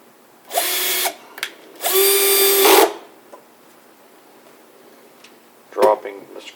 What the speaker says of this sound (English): It's very handy having a magnetized drill driver.